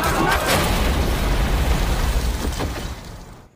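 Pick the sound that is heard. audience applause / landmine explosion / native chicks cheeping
landmine explosion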